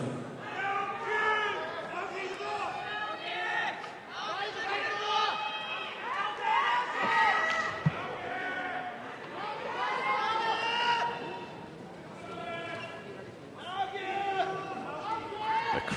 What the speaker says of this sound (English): crowd here in Yokohama Pier Arena getting somewhat animated in anticipation of this elite action you're about to witness